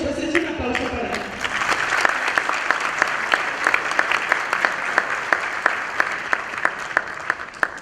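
Audience applause for a speaker at a lecture event, loud and sustained, with a dense wash of clapping and a few sharp individual claps standing out. Brief murmur opens the applause.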